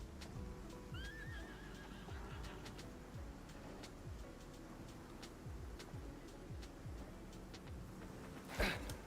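Horse in the survival video game Icarus neighs in a rising whinny early on, over a continuous stream of clip-clopping hooves with scattered clicks and a sharp burst near the end.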